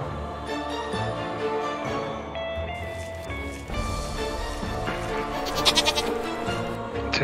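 A goat bleats inside the VR game Deadly Daycare while it is washed, a loud, drawn-out call over game music and squishy sponge and soap effects.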